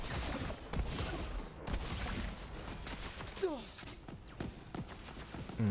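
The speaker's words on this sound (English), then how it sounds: "it kind of got obscured by exploding shotgun shells" Exploding shotgun shells fire in the video game Borderlands 3, giving a string of sharp blasts and crackling bursts at irregular intervals, mixed with mechanical clatter and softer game sounds.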